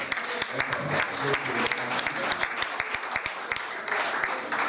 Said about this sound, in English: Let our clap show that we endorse.